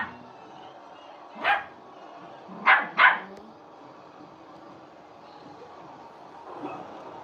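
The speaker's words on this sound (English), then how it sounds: "Puppy versus 14-year-old dog." A puppy and a 14-year-old dog bark at each other, giving three sharp barks spaced a second or so apart over a quiet room-tone background.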